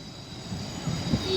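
A class 158 diesel train (158865) rolls into Manchester Piccadilly station, a steady low rumble with wheel squeal building near the end, fairly close and without voices.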